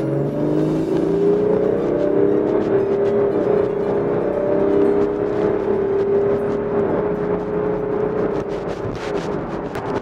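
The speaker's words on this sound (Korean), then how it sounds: "가속 한번 밟아볼게요." A BMW X5 40d diesel SUV with an automatic transmission pulls hard under acceleration, its engine drone rising steadily and holding loud and close from the cabin for the full stretch with no talking.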